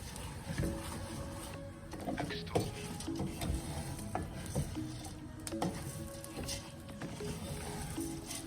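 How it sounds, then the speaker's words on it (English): Rice for Nigerian fried rice fries in a pan and is stirred, giving a steady crackling sizzle with scraping and clattering stir strokes throughout, moderately quiet. "I'm going to be pouring the rice now, and I'm going to be actually frying this"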